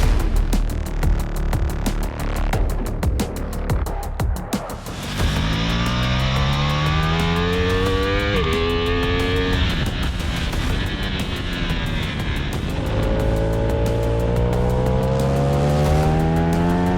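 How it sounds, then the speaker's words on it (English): Ducati Multistrada V4 RS motorcycle being ridden hard: a loud, close V4 engine revving up and down through gear changes, rising and falling pitch sweeps over a constant roar of wind and road noise. "Chad, we've been riding this Multistrada V4 RS here today"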